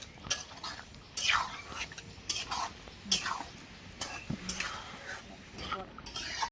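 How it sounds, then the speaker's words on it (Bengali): Fried paneer is stirred into vegetables in a pot during village-style cooking, giving sharp, scattered scrapes and clinks of a utensil against metal, close and moderately loud, with quiet background sounds between strokes. "ভালো করে কিন্তু একটু নেড়ে চেড়ে দেবো।"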